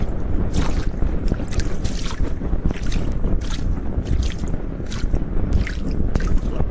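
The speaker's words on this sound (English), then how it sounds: "He begins to row away from the floating platform with steady strokes." Wooden oars pull a rowboat across a misty mountain lake in steady strokes, the paddling and water sloshing heard up close under heavy wind rumble against the microphone.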